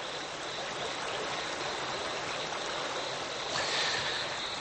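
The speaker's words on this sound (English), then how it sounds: "The sound of rushing water could drown out the calls of a frog." Rushing water of a rainforest stream in Panama, a steady broadband roar that stays loud and constant throughout, with a slight surge near the end and no voices.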